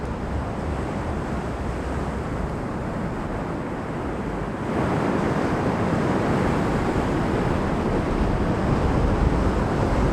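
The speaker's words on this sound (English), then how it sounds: "just trying to get some good motion in those waves" Ocean waves on the Oregon coast, a broad continuous wash of surf mixed with wind buffeting the microphone, growing louder and heavier about halfway through.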